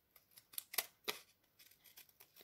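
Scissors snip paper to make a junk journal pocket, with a few quick, crisp close-up cuts that are soft and quiet overall and no voices.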